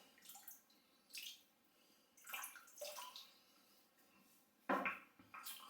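Tap water runs and splashes in bursts at a sink while a wet shave is prepared, several close irregular surges of flow with quiet gaps between.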